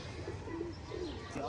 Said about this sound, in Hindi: कबूतर माशाल्लाह सारे आ गए सामने